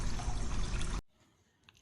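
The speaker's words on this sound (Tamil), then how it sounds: "நல்லா தண்ணி வருதடி குடம் குடமாக ஊற்றுது" A strong rush of water pouring for about a second, then it cuts off, leaving quiet with a couple of small clunks.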